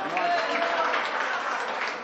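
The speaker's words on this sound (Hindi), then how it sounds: "एक बार जोरदार तालियों से इस्तकबाल करें दोस्तों।" An audience at a mushaira poetry gathering breaks into a hearty round of applause, a thick, continuous roar of clapping with some crowd noise, close and fairly loud throughout.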